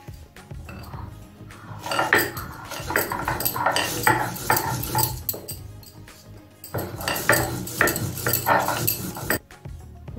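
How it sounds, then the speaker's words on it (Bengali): Fried chili being ground with a little salt on a stone slab, a steady scraping and knocking of stone on stone in two long bursts with a short pause between, close and fairly loud, no voices. "প্রথমে ভাজা লঙ্কাটা অল্প একটু নুন দিয়ে বেটে নেব।"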